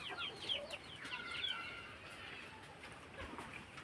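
Native country chickens on a poultry farm give faint, high clucks and chirps in the first seconds, then fade into a low, quiet background.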